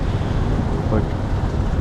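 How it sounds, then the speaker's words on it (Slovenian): Wind and big waves rushing around a sailing boat at sea, a loud steady broadband roar with buffeting wind noise on the microphone and no clear individual wave breaks. "Drugač valovi so kar veliki"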